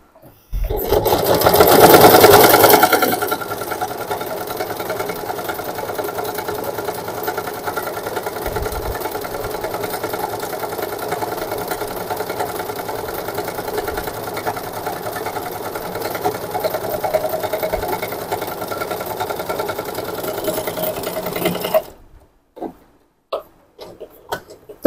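A Singer SM024 sewing machine runs in a continuous fast stitching whir, starting with a louder burst, then holding steady for about twenty seconds before stopping into a few light clicks.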